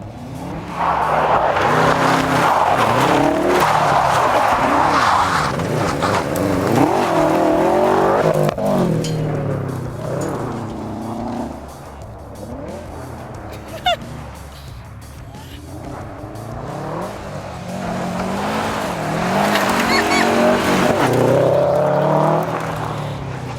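A car engine roars and revs loudly with tires skidding and squealing as it slides on the hand e-brake in a yard, close and sustained, with a brief sharp knock midway.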